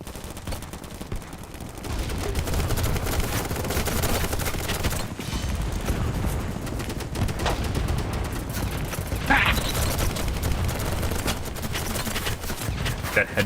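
PP and Scar H gunfire in the game Battlebit, dense continuous automatic bursts and rapid shots layered over a busy battlefield din, with occasional voices underneath.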